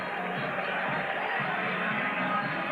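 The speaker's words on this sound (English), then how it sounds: "Sandy, is there a lot of crowd noise in the mix, or is it just in our headset?" A football stadium crowd at a 1981 San Francisco 49ers versus Dallas Cowboys game makes a dense, continuous roar. It is broad and steady, without distinct voices standing out.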